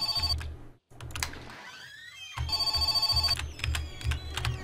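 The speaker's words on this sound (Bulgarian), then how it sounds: "Ох, телефон!" A telephone rings in the My Summer Car video game, a loud repeating electronic bell in two clear bursts separated by a short gap.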